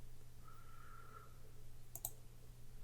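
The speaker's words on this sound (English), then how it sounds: "I'm going to click this bullet point option up here." A computer mouse gives a quick double click while a bullet point option is selected in Word 2016, two sharp, close, quiet clicks over a faint steady hum.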